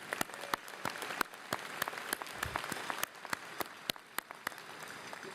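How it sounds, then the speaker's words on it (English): Audience applause for graduates at a university-wide commencement ceremony in a large hall, sparse and fairly faint, with scattered individual claps standing out over a quieter crowd wash. "let's start off with a round of applause for the graduates and the families who made it happen"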